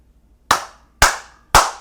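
Three loud, sharp hand claps ring out one at a time at an even, deliberate pace, close up in an otherwise quiet room.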